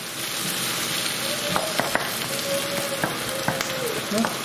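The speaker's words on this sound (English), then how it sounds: "Keep giving it a right good mix." Peppers sizzle in a hot pan while being stirred, giving a close, steady frying hiss with repeated scraping strokes and light knocks of the utensil against the pan.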